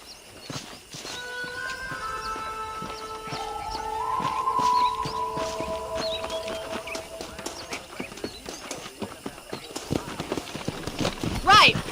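Horse hooves galloping in the video game Red Dead Redemption, a steady run of hoofbeats under speech and sustained music-like tones, growing louder toward the end.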